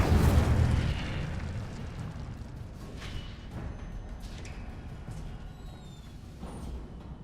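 Incendio fire spell cast in the video game Hogwarts Legacy: a loud booming burst at the start that decays into a long rumbling, crackling roar fading over several seconds.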